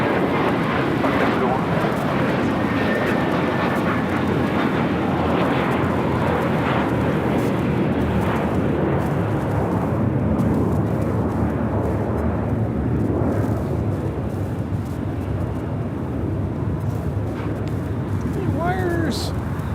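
Jet airliner on the runway at Los Angeles LAX airport, a loud steady roar of engines holding throughout with wind rumble, while a radio voice of the tower talks over it.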